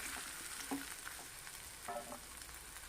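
Mixed vegetables sauté in a hot kadhai, giving a soft, continuous sizzle with occasional stirring scrapes, heard quietly and without any voices.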